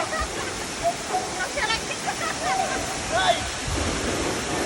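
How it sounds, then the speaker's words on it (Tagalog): A waterfall in Negros pours in a constant loud roar, with people talking and shouting faintly over the rushing water. "Isa ito sa pinakamagandang falls na napuntahan ko dito sa Negros."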